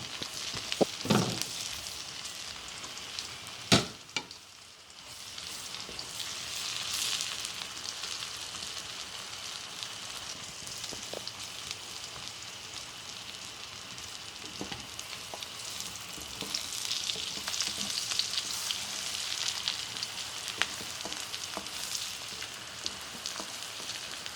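Chili, garlic and onion sauté in a pan for laing, giving a steady soft sizzle with occasional stirring scrapes and clinks throughout.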